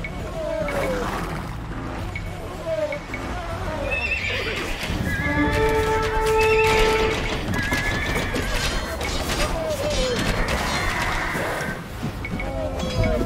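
Horses in the Age of Empires II game neigh and whinny repeatedly over steady clip-clopping hooves, loud and close, with a voice talking partway through.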